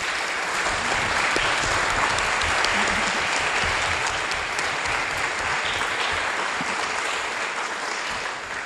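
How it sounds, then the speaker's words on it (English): An audience at an Earth Day symposium in Nahant claps for the speakers, giving a dense, continuous round of applause that holds strong and eases off slightly at the close. "I'd like a big round of applause for our speakers."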